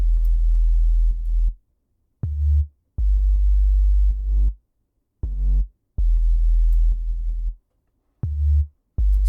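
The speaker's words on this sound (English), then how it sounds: "So this is just a sine wave with some noise layered on it." A deep sub bass sine wave layered with noise plays in repeated sustained notes of varying length, separated by short gaps of silence, loud and isolated.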